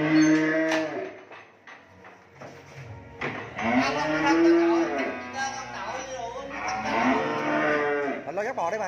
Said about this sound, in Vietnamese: Anh lo dắt bò đi mà.